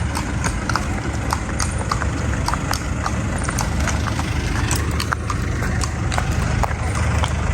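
A horse walks in the Dominican Republic, its hooves striking a regular, close clip-clop beat over a constant low rumble of background noise.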